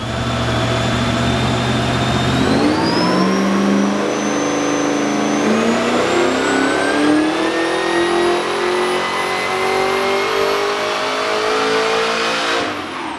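A supercharged 383 stroker V8 in a Holden VY one-tonner revs hard on a dyno, pitch climbing steadily through the gears in a loud, close, continuous pull that cuts off at the end.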